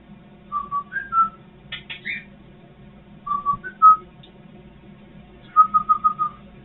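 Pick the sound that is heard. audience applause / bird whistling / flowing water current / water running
bird whistling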